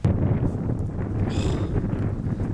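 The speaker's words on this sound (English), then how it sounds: "It's chilly wind." Chilly night wind blowing through a church graveyard, a steady, loud rush buffeting the microphone with no talk over it.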